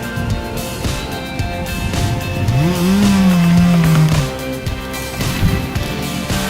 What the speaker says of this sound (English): The Stihl MS-462 chainsaw allows professional foresters to carry out these hazardous and demanding tasks more safely and efficiently.